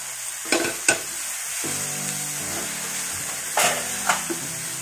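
Spice masala frying in a pan while being stirred, with a loud continuous sizzle broken by a few sharp scrapes and clanks of the spoon against the pan, no talking.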